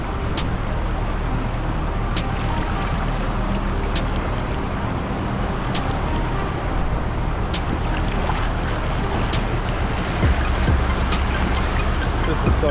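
An off-road vehicle ploughs through deep flood water with its wheels fully submerged, a loud continuous rushing wash and engine rumble that sounds close, with regular faint ticks throughout.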